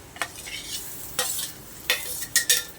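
Onion and tomato frying in a pan give a soft, steady sizzle, broken by four or five quick scraping strokes of a spoon stirring, close and moderately quiet, with no talking.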